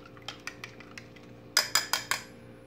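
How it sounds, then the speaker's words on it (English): Egg whites are scrambled in a bowl with a fork or utensil for a vegetable omelette, a series of sharp clinks and taps, spaced lightly at first then four louder strikes near the end. "So you just scramble it a little bit to loosen it up."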